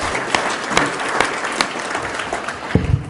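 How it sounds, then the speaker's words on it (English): Audience applause at a government report-to-citizens event, a steady wash of clapping from a large crowd lasting throughout, with a few sharper claps standing out. "Let's give Deborah a round of applause"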